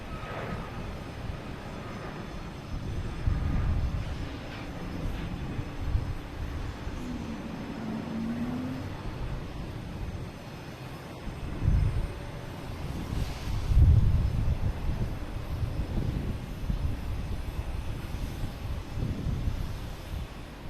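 United Airlines airliner taking off at Boston Logan Airport, heard from a distance as a low, faint roar that slowly builds and fades across the stretch, with some nearby ambient noise.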